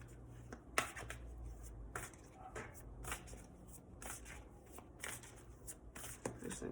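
Tarot cards shuffled by hand at close range, quiet riffling bursts and soft taps repeating in an irregular rhythm, with no talking.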